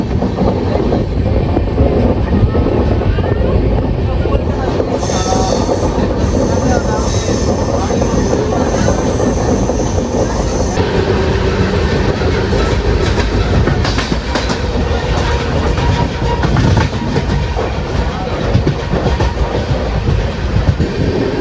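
The Amaravati Express passenger train, running from Vasco-da-Gama to Shalimar, rumbles loudly and steadily at close range with continuous wheel and rail noise and a broad roar that shifts partway through.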